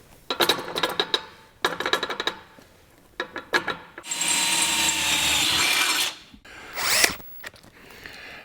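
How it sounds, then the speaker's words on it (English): A power drill with a step bit bores into a steel exhaust head pipe in short, loud bursts, then one longer steady run before a final brief spurt. "what I've got here is a step bit. We're going to just go ahead and insert that in there and keep drilling"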